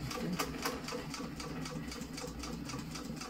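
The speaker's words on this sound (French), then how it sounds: "avec cette machine, je peux coudre 1 cm de cuir" A leather-stitching sewing machine runs steadily through a thick 1 cm leather piece, giving a fast, continuous mechanical clatter of needle strokes at close range with no talk.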